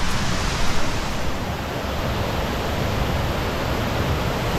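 A waterfall in Costa Rica, heard from the top, makes a loud, dense, unbroken rush of falling water, steady throughout with no voices.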